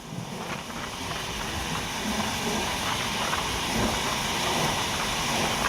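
The Sundarban Express train running toward Mawa railway station, a continuous rumbling, hissing rush of wheels and carriages that holds steady throughout.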